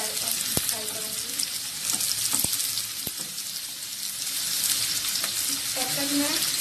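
Chicken curry ingredients frying to deep brown in a pan: a loud, continuous close sizzle with occasional sharp utensil clicks and a brief watery splash near the end.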